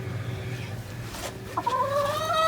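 Backyard chickens clucking in a chicken run, soft clucks over a steady low hum, ending in a longer drawn-out call, with no voices.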